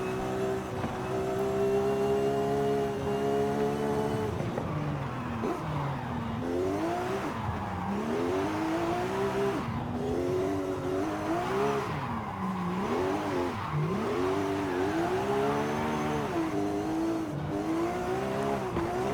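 A Porsche 911 in Forza Horizon 5 driving hard uphill, its engine droning loudly and rising and falling in pitch through repeated revs and gear changes, with no talk over it.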